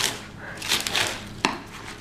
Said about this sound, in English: I'm just going to cut up the bok choy, put it in the blender.